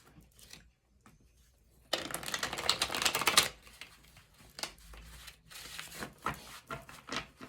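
Tarot cards being shuffled for a reading make a burst of riffling, rustling card noise lasting a second or two, followed by scattered soft taps and clicks as the deck is handled up close.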